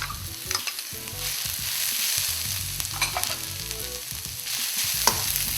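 Carrots and green peas fry in a pan for vegetable cutlets, producing a loud, continuous close sizzle with repeated scraping stirs throughout and no voices.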